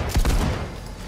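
Shotgun fire in the video game Cyberpunk 2077: a heavy low boom early on, followed by a dense rumbling tail that fades out over about a second.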